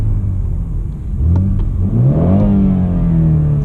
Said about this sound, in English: And if you rev the car,